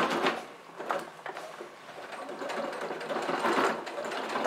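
A sewing machine stitching a zippered shoulder bag, a steady close mechanical whirr with a brief slowdown and rustling as the fabric is turned, then running evenly again, with no talk.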